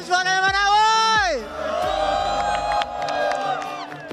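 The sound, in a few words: crowd cheering at MLBB M7 event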